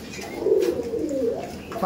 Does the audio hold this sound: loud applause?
no